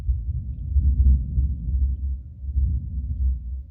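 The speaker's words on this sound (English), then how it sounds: "Do you hear that thunder?" Distant thunder during an outdoor abs and hip flexor workout, a low, continuous rolling rumble that swells and fades over a few seconds, with no other sounds on top.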